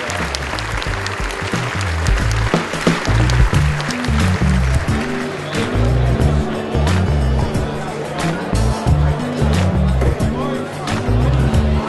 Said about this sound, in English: so let's welcome them with a round of applause